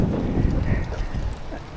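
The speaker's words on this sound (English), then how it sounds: "It's raining on me." Rain falls steadily outdoors in Florida during a roof and house wash job, a dense close patter with low rumbling beneath it and no talking.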